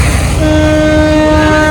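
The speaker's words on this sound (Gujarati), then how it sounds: "હવે હું તમને ટ્રેન બતાવું છું" A train passes at close range and blasts a loud, sustained horn over the heavy rumble of its wheels and cars, filling the whole moment.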